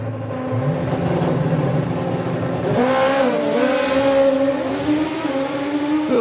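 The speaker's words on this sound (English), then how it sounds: "Bike sounds angry, doesn't it?" A nitrous, non-wheelie-bar drag racing motorcycle accelerates hard down the strip, its loud, steady engine roar climbing in pitch as it pulls away, with no talk.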